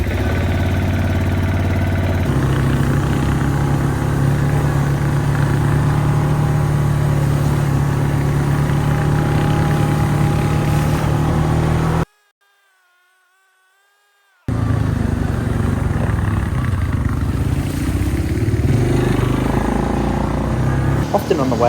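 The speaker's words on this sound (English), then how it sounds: "Here's our quad bikes. We're going to be taking up to the mine, get them started up." Quad bikes at a Yukon gold mine idle and rev with a loud, steady mid-range engine drone, cutting out briefly before resuming, while a voice talks over the engines.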